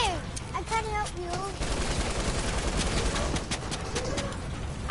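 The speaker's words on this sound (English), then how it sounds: "Oh god, I'm getting shot." Video game gunfire, rapid bursts of shots with sharp repeated cracks, heard alongside bird-like chirps and steady game background noise.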